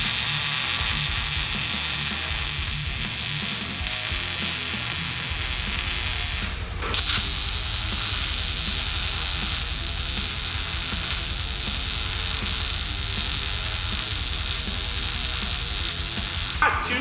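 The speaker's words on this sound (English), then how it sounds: "You ready to watch my welding?" MIG-style welding on a rotisserie frame for a pro drift car, with a dense continuous crackling buzz held for long stretches and a brief break around the middle.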